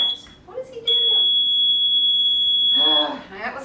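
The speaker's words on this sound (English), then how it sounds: "that stupid driveway alarm" A driveway alarm gives a loud, steady high-pitched electronic tone that holds for about two seconds, with a brief chirp before it and a person talking around it.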